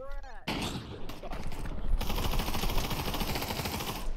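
Rapid bursts of automatic gunfire in the Pavlov VR shooter game, a dense, continuous rattle of shots that starts after a brief pause and keeps going, with voices talking over it.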